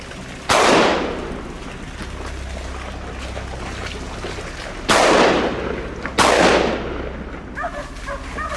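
Three loud gunshots crack out at feral hogs on Arizona farmland, each a sharp close blast with a trailing echo, over a low engine hum. Brief faint animal sounds follow at the end.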